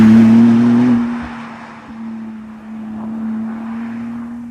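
A low-slung 2025 McLaren Artura supercar cruises in comfort mode along a winding road, its engine a steady droning hum heard from inside the cabin, loud at first and then easing to a quieter even tone.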